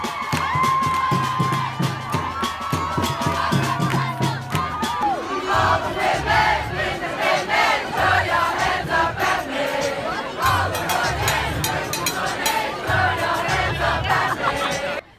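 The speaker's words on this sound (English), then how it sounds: "People filled the time with the light of hyper-energetic chanting and dancing" A large crowd chants and cheers loudly and continuously at a Strike4Repeal street demonstration in Dublin on International Women's Day, with steady drumming and amplified music underneath and rhythmic shouted chants rising throughout.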